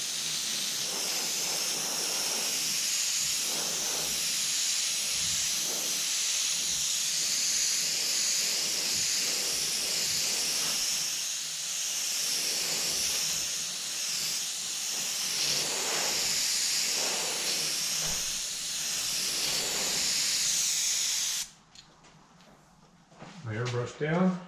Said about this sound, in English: For the inside of these loops of the flames, you can see I'm just going multiple passes back and forth, still using that same dagger stroke from the beginner airbrush videos.